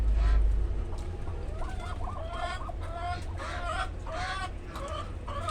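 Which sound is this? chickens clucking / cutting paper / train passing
chickens clucking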